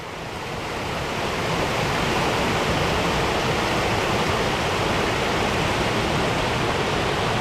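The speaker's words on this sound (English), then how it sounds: "the next section of the little waterfall I just showed you" Small waterfall along Rainbow Falls Trail in the Smoky Mountains, a steady, dense rush of falling water that swells in over the first second and then holds loud and constant, close by with no voices.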